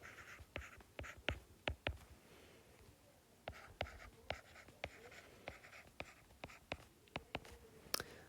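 Pen or pencil writing math notes by hand, a quiet scratchy stroke-by-stroke sequence of short taps and scrapes in bursts with a pause midway, close and faint, no talking.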